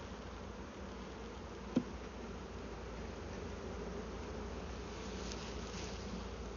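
A honeybee swarm buzzes around a hive during a transfer into a new box, a dense, steady hum of many bees close by, with one brief knock partway through.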